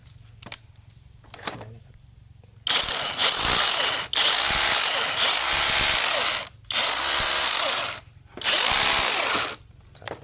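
A cordless impact drill, sold with two spare batteries, runs in four loud sustained bursts with short pauses between them, preceded by a few light clicks and handling taps.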